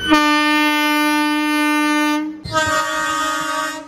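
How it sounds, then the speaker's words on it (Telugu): The Kacheguda to Kottayam train sounds its horn on arrival: a loud, near, sustained blast of about two seconds, a brief break, then a second slightly rougher blast. "మన ట్రైన్ అయితే వచ్చేస్తుంది అనమాట కాచిగూడ నుంచి కొట్టాయం"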